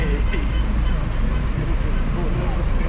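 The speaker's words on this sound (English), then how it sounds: "so the traffic is busy" Busy street traffic streams past the central market and bus depot in Cotacachi at night: a loud, continuous roar of engines and road noise with a heavy low rumble that never lets up.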